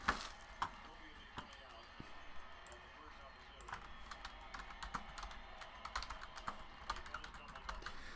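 A short burst of typing on a computer keyboard, with light, uneven key clicks going on steadily under a faint background hum.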